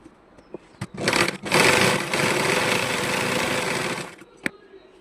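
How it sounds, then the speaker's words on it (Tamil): A sewing machine runs a stitching pass on a small puff sleeve, giving a steady close whirring hum for about three seconds, with a few sharp clicks from fabric handling before and after. "இப்போ படிமான தையல் போட்டுக்கங்க அது மேலே."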